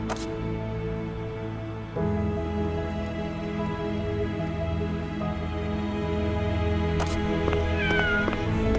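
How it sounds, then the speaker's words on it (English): A kitten in the video game Soul Worker meows over a continuous layered game soundtrack, with several short mewing calls rising late in the clip and no talking. "We have a tiny little kitten."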